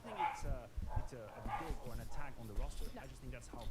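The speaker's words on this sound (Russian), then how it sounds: "собака что-то лает" A dog barks a few times in the background of a livestream, the yaps muffled and partly buried under continuous nearby talking.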